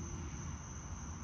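Cicadas drone in summer heat as one continuous, steady insect buzz. A constant high whine sits over a dense wash of background noise, and nobody speaks.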